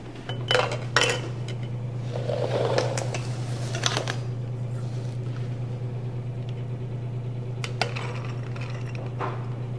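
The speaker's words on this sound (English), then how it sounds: "we're going to fill the jars with the corn" Raw sweet corn kernels rattle and clink into glass canning jars in a kitchen, several sharp clatters early on over a steady low hum, then quieter scattered taps and a clink near the end.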